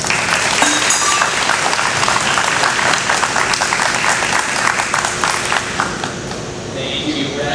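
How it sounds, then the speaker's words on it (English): An audience gathered for a volunteer aviation charity event applauds steadily, a dense, loud wash of clapping that carries on for several seconds before easing slightly at the end. "Would you give them a round of applause?"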